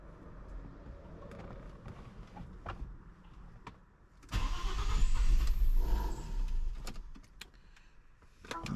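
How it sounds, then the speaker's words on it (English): An Audi C5 Allroad with its fuel pump fuse missing is cranked: clicks and small mechanical noises first, then a loud starter churn of several seconds that fades back to quiet handling sounds, with no voices. "let's just try starting the car and see what happens."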